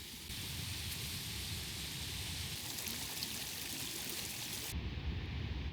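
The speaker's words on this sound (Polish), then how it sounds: "I tu teraz się przelewa po tym kamieniu." Clear glacial meltwater stream at Nigardsbreen in Norway spilling over a stone, a steady close rushing and splashing wash of water, fairly quiet, with no voices.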